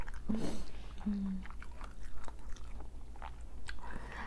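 Meatballs being chewed while eating suki, with close, moist, continuous chewing and soft crunches, plus a couple of brief low vocal hums over it.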